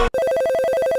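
Shop telephone ringing after a brief gap, a rapid electronic trill pulsing in a steady rhythm, loud and close with no voices.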